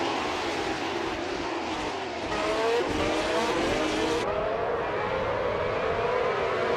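2014 Renault Formula 3.5 race cars pull away at the start on the Cadegua GP2 track in a racing video game, several engines whining upward in overlapping rising pitches over a steady roar, with no talking.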